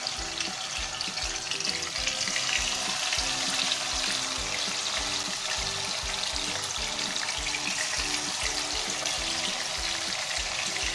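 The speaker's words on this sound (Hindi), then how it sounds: "अब हम इसमें एक एक करके मछली के पीस ऐड करेंगे।" Fish pieces fry in hot mustard oil, a steady, dense crackling sizzle close by, with rhythmic low bumps running under it throughout.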